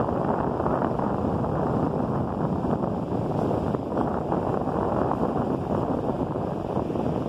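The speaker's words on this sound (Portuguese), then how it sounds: "Friozinho, tem um vento friozinho nesse momento." Cold winter wind buffets the microphone at Meia Praia beach in Itapema, Santa Catarina, a steady loud rushing roar with no voices.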